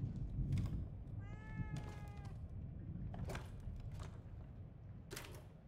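A single drawn-out cat meow from The Evil Within 2, clear and mid-distance over a steady low game ambience with scattered clicks and thumps, no talking.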